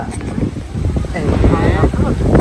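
Strong, gusty outdoor wind buffets the microphone with a continuous low, rough rumble that swells and eases across the whole stretch, loud and close.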